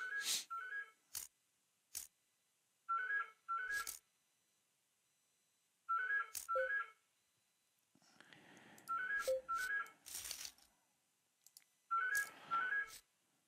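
Indoor telephone ringing in repeated double-ring bursts with short pauses between them, fairly faint and heard alone, with a brief rustle of other noise partway through.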